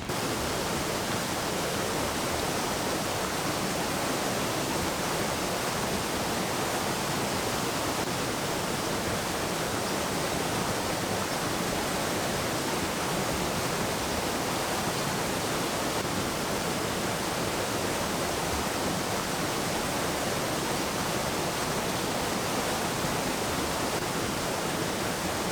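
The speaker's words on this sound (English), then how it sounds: "I'm trying to speak very loud because of the water" Steady roar of Secret Falls in Jamaica, a dense, unbroken rush of falling water that fills the whole span at constant loudness, with no voices breaking through.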